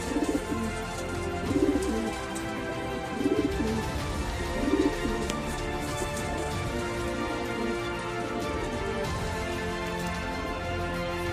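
Homing pigeons coo in repeated soft bursts during a racing-club training session, with a steady rain-like background patter throughout and no talking.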